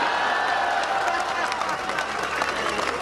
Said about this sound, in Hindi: आप सबकी एक साथ तालियां चाहता हूं।